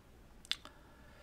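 A computer keyboard key, F12, is pressed with a quick pair of faint close clicks, a light tap followed by a softer release, against a quiet background.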